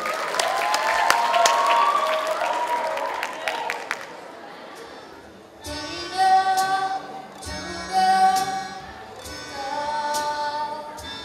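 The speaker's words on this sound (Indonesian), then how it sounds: "Tepuk tangan untuk jurusan Sidratasi." A school audience at an arts performance claps in a thick burst of applause that fades after a few seconds, giving way to tonal music.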